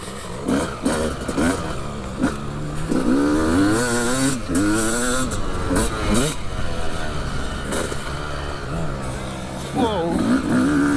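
Factory Honda CR250 and Suzuki RM250 two-stroke motorcycles ride close by, their engines rising and falling through repeated rev sweeps, with voices talking over the engine noise.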